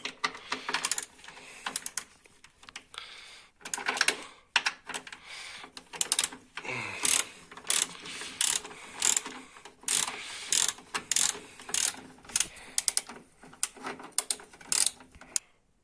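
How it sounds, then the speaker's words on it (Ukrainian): Bolts being unscrewed with a ratchet on a VAZ 2109 car during axle and gearbox repair, giving rapid clicking pawl bursts in irregular spurts with short pauses, close and moderately quiet, with no voices. "І зараз, зараз, зараз, зараз я відкручую."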